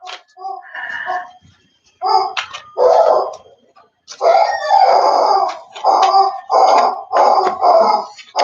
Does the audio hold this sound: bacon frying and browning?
no